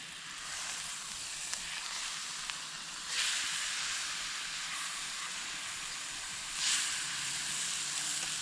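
Steak sizzling over a campfire, a loud continuous hiss and crackle of fat frying close by, swelling briefly twice, with faint pops and no voices.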